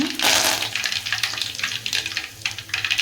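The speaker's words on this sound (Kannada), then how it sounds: "ಈಗ ಸ್ವಲ್ಪ ಒಂದು ಅರ್ಧ ಸ್ಪೂನಷ್ಟು ಜೀರಿಗೆ ಸಾಸಿವೆ ಹಾಕೋಣ. ಈಗ ಇವು ಸ್ವಲ್ಪ ಚಟಪಟ ಅನ್ನಲಿ." Half a spoonful of cumin and mustard seeds spluttering in hot oil for a capsicum stir-fry, a steady close crackling sizzle with bright pops throughout and no talking.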